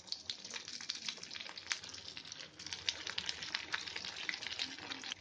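Chicken cheese bread pakoda frying in hot oil, giving a soft, steady crackling sizzle with dense small pops throughout and no voices.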